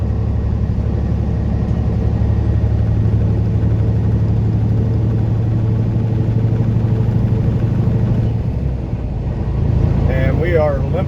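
A truck with transmission trouble limps along I-80 through a gorge toward Salt Lake City, its engine giving a steady loud rumble with road noise throughout and no break in the drone.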